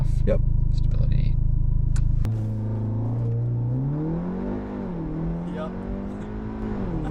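An Audi A3 with a Stage 1 tune launches hard under launch control, its engine climbing through a rising rev sweep and a quick gear change before pulling on at high revs, with a brief spoken word early on.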